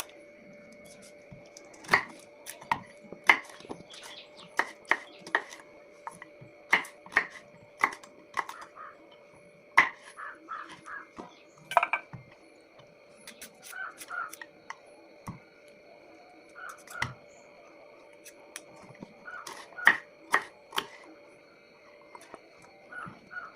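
A knife pares the thick skin off a tender young jackfruit, giving sharp irregular chopping clicks and scraping strokes at close range over a faint steady background hum.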